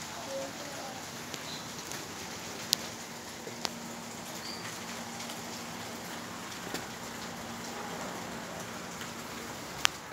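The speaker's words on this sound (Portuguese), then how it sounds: "Olha a chuvinha, caiu na nossa cidade, pessoal." Light rain falls over a town, making a steady, soft hiss with occasional sharp drips and taps. It is quiet and distant-sounding, with no voices.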